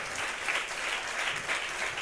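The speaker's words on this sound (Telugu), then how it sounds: "చప్పట్లు గట్టిగా" A church congregation claps loudly and continuously during a Telugu sermon, a thick, even wash of hands with slight rhythmic swells and no voices on top.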